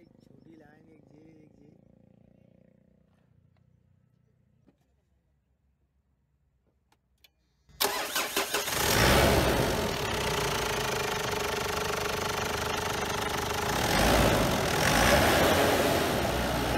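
A Ford Endeavour's 3000 cc diesel engine cranks and catches after a quiet stretch, then settles into a loud, steady, clattering idle that lasts to the end without speech.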